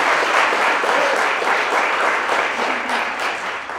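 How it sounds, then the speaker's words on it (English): Audience applause at a community gathering, a dense, steady wash of many hands clapping at close range for several seconds, fading slightly toward the end. "Can we get a round of applause for Felicia Otto, please?"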